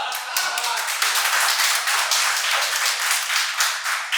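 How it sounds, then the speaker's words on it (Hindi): Audience applause at a live stage performance, dense sustained clapping from many hands, loud and continuous throughout with a few voices mixed in. "मुझे इशारा नहीं करना पड़ेगा, ताली आ जाएगी, और वैसे ही हुआ"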